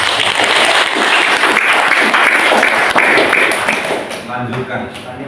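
Audience applause for Romo Yudis at a church gathering, a loud, dense burst of clapping that holds steady for several seconds and then thins out, with speech mixed in.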